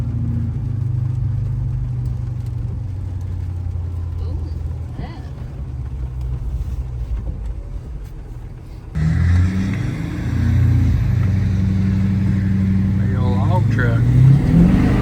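A heavy haul truck grossing about 210,000 pounds on a super load job, its engine droning low and loud, then revving harder midway with a rising pitch, while people talk over it.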